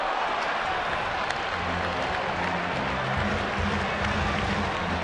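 Baseball fans at a Reds at Giants game clapping with handheld clappers make a steady, dense rattling applause that carries throughout, with crowd noise and faint talk underneath.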